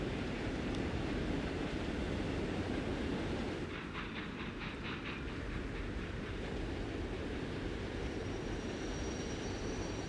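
An express train runs steadily in the Transport Fever 2 simulation game, a continuous broad rumble with a brief rhythmic clickety-clack of wheels over rail joints partway through.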